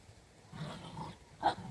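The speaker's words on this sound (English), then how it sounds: "I'm out with the dogs." A dog growls and gives a short low bark outdoors at a snowy campsite, faint and close, with brief grumbling sounds and no talking.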